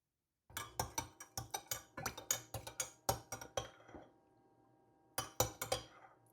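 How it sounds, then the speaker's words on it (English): A utensil stirring melting wax inside a glass Pyrex jar set in a double boiler on a hob, giving a quick run of bright clinks against the glass, a short pause, then another burst of clinks close up. "slowly melt your wax by stirring occasionally until the wax is clear"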